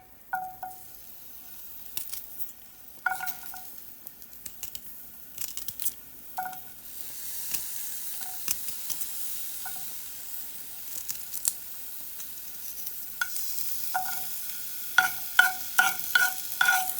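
Garlic roasting in a pan gives a soft, steady sizzle with scattered clicks and sharper stirring scrapes, the scrapes bunching together near the end, with no talking.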